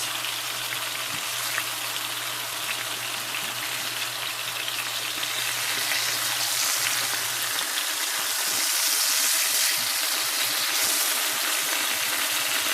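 A swai fish fillet sizzles in hot grease in a pan, a loud, dense and steady crackling hiss that continues throughout with a low hum fading out midway.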